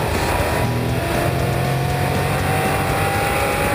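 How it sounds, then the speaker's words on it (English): Engine of a 2013 BMW M5 with turbochargers, heard from inside during a hot lap on a racetrack with stability control off and sport settings, a steady loud roar holding constant throughout with tire and wind rush. "I'm in the new M5. I've got stability control turned off. Got everything in the sport setting. I'm doing a hot lap."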